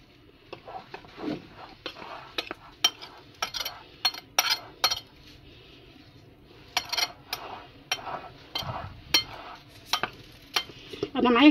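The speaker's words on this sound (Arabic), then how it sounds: "هنقلب المكونات الجافه مع بعض" A spoon stirs dry chocolate cake ingredients with dark Spanish cocoa in a bowl, giving a run of light clinks and scraping taps in uneven bursts with pauses, close and moderately loud.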